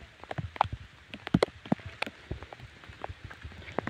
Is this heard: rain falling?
yes